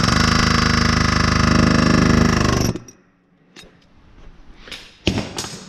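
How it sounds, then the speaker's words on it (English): An air hammer rattles against the fan clutch nut on a 12V Cummins, with a loud, dense burst of rapid impacts for under three seconds, then stopping, leaving faint metallic clinks and shuffling close by. "take your air hammer or wrench, however, and you find a nice land on one of the, on the fan clutch nut, and hit it"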